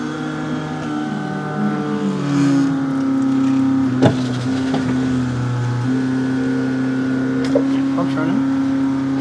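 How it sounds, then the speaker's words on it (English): The pump runs steadily on a 1989 Ford Mustang notchback fitted with a Brawler carburetor, a sustained mechanical hum with tonal whine throughout and occasional clicks, recorded close up. "Pump's running."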